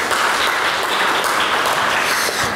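Audience applause for a speaker at a doctoral research round-table, a loud, dense and continuous burst of clapping throughout.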